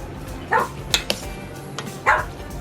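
A dog barks a few times nearby, short sharp yaps spread over a couple of seconds in a kitchen where Korean japchae glass noodles are being tossed with sauce.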